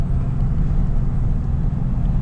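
A truck engine under exhaust braking on a steep downhill grade, pulling a custom-made dump trailer, drones in a steady low rumble that holds around 1,000 to 1,100 rpm, continuous and close throughout.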